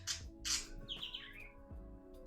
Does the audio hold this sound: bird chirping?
yes